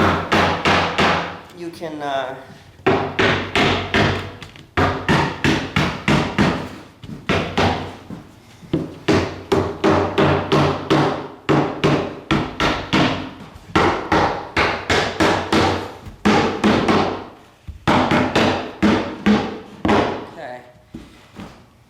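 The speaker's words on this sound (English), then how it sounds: "I nail this" A hammer drives nails into the back of a custom wooden cabinet in steady, rapid strikes, loud and close, with a few short pauses between runs of blows and a voice speaking briefly.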